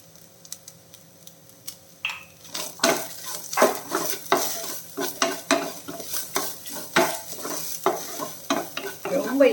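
A spoon stirs coconut poha upma in a pan, making a steady rhythm of close scraping and clinking strokes against the metal over a soft sizzle.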